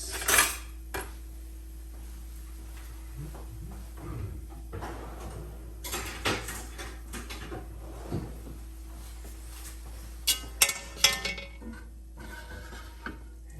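Metal spoon scraping and clinking against a cast iron potjie as rendered oxtail fat is transferred into a stock pot, scattered knocks and scrapes with a sharp cluster of clanks near the end over a low steady hum.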